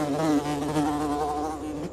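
Buzzing of a fly in the video game Nightmares from the Deep, a steady, close drone with a wavering pitch that runs unbroken for the whole two seconds.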